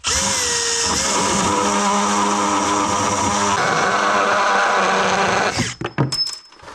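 A Makita power drill drives screws into a countertop in an old log cabin, a loud continuous high whine that drops in pitch partway through, then cuts off into a few sharp knocks and rattles.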